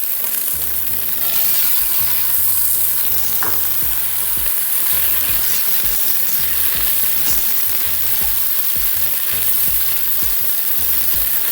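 Fried rice with corn stir-fried in a hot pan, giving a loud, steady sizzle with the scrape and clatter of stirring throughout.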